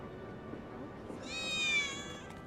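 A cat meows once in Final Fantasy VII Remake, a clear, rising and falling cry that stands out over a steady background of game ambience.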